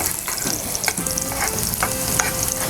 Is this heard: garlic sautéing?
yes